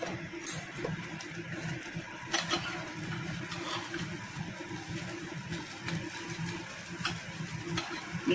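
Masala dosa frying on a large wide cheenachatti pan, giving a steady soft sizzle and crackle with light scraping and clinking, close by and without talk.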